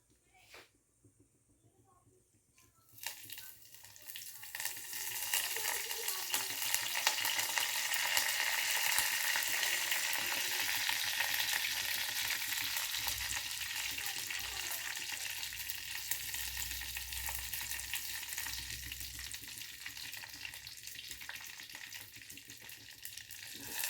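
Ripe banana frying crisp in a pan, a steady broad sizzle that swells after a quiet start and holds evenly, with occasional stirring noises.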